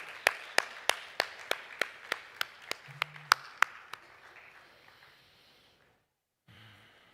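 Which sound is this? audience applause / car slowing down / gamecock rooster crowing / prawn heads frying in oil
audience applause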